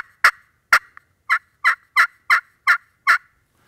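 A turkey call rings out in a steady series of about nine sharp clucks and cuts, loud and close with brief gaps between.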